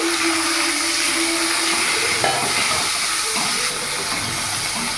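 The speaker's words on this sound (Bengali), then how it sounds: "এখানে কিমা করা চিকেনটা আমি পুরোটা দিয়ে দেবো" Minced chicken hisses and sizzles in a hot pan with fried ginger and garlic, a steady, loud frying roar that fills the whole stretch with no talking.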